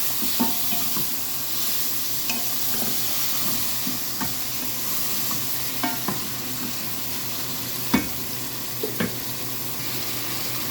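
Beef frying and being stirred in a pan with onions, a continuous sizzle broken by sharp scraping and clacking stirs at irregular intervals, close and alone.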